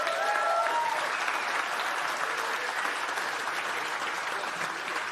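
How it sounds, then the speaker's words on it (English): Audience applause for the first winner at the 2026 Fieldays Innovation Awards: steady, dense clapping from a sizeable crowd, sustained evenly throughout without fading, with a few faint voices underneath. "Your first winner for the evening, a round of applause."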